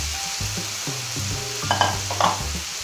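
Rice tumbles into a seafood paella pan and fries with a bright sizzle, punctuated by a few quick scraping stirs, close up and without any talk.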